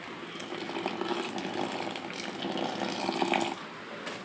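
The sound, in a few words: boiling water poured into rice flour for idiyappam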